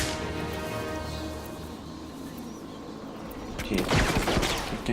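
Bursts of gunfire in the video game Batman Arkham City, a steady rattle of shots under game ambience that grows louder toward the end.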